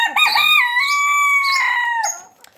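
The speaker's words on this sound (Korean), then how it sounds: "이건 이제 꿩닭이 우는 소리예요." A pheasant-chicken crows once, close and loud: a long, drawn-out call lasting about two seconds that trails off at the end, with no talking.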